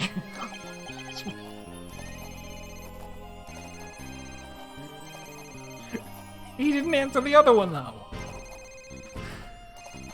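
Electronic telephone ringing from the video game Phoenix Wright: Ace Attorney - Dual Destinies, a repeating melodic ringtone among game music and sound effects, with someone speaking briefly over it.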